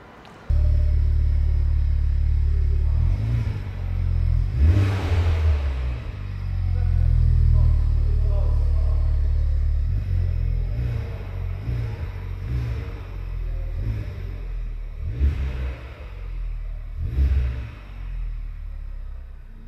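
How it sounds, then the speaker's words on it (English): A 2020 Honda Civic Type R Sport Line engine fires up and settles into a deep, rumbling idle, then revs in several sharp blips, close and loud, with someone speaking at times between revs. "So I'm going to go in and ignite this beauty for the first time."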